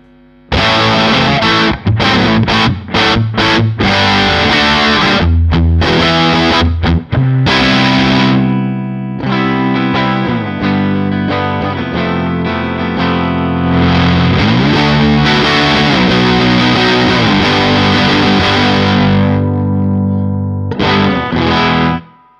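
Loud, heavily distorted electric guitar through an Arc Effects Soothsayer pedal with gain maxed on the bridge pickup: riffs and sustained chords, thick and saturated, with choppy bursts early on and long crunchy held notes later.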